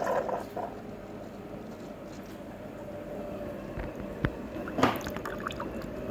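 Franke A600 coffee machine filling its boiler with water: a steady, moderately loud hum with a soft watery churn throughout, broken by a few brief clicks near the end.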